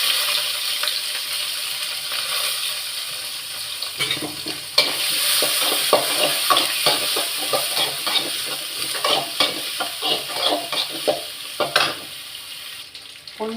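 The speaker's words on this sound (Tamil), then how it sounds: "பொன்னிறமாக வதக்கிட்டேன்." Onions sautéing in a pan with cinnamon, a flower spice, cardamom and star anise for a chapati kurma, a steady close sizzle broken by frequent scraping stirs, with no talk.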